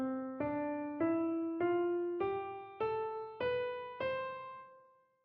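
Eight ascending notes of a major scale rise one by one at an even, moderate pace, each sustained and clear, alone with no talk; the final octave note rings out and fades.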